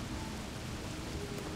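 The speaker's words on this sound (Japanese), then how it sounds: "前回最後の方で雷雨というのになりまして" Thunderstorm rain in the city-building game Cliff Empire, a steady, dense hiss of falling rain holding at an even level throughout with no distinct thunder clap and no voices.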